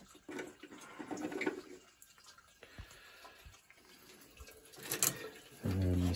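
Water drains from an electric water heater as a faint, uneven trickle and gurgle, broken by a few soft clunks and ending in a louder rush.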